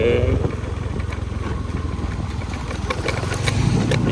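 A motorcycle on the widened Pusuk road in Lombok, its engine droning steadily nearby with a rising note toward the end over outdoor background.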